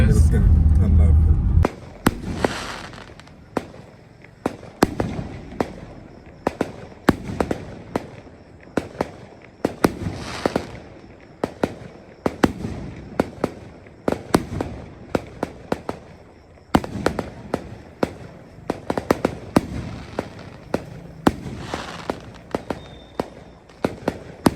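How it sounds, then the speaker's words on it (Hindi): Fireworks burst at night around 10:30, a long run of sharp cracks and booms at irregular intervals, some near and loud, others farther off, with crackling firecrackers mixed in. "दोस्तों, आपने ये आतिशबाजी भी देखी होगी"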